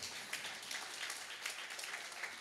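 Congregation at a church service applauding in broad, steady clapping that fills the room, with no voices over it.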